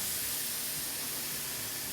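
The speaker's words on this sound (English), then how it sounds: "Got some good sizzle going on right now." A steady, loud sizzling hiss, continuous throughout with no pauses, as steak fat sears on a hot indoor electric griddle close by.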